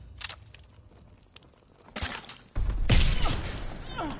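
A Bouncing Betty mine goes off in Call of Duty: WWII multiplayer. A faint rustle and light footsteps lead into a sudden loud burst, then a rumbling blast tail over about two seconds.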